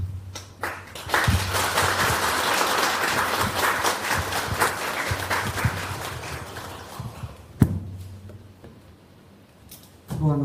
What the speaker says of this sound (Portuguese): vamos recebê-la com uma grande salva de palmas, a Maristela Santos.